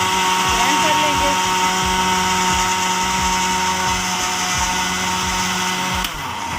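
A blender grinds a banana milkshake, its motor whirring steadily and loudly up close for about six seconds, with a rhythmic pulsing churn underneath before it cuts off abruptly near the end.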